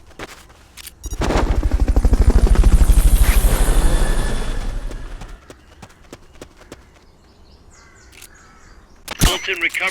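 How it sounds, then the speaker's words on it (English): A helicopter from the video game Metal Gear Solid Peace Walker sweeps in with a loud rhythmic rotor chop that swells and fades over several seconds, followed by sharp game sound effects. "Fulton recovery subject confirmed onboard helicopter."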